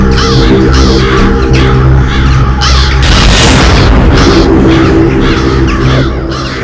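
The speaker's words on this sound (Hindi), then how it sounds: "इतने सारे कौवे इस वक्त?" Many crows cawing in a horror drama scene, a loud overlapping flock of harsh calls layered over a deep droning rumble and a booming swell midway, with no speech.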